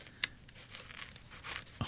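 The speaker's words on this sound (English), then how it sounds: "It's starting to rip." Paper from a famous painting print tearing as scissors push through it, a close, soft crinkling rip with a few sharp crunchy bursts and a final snap, quiet and with no talking.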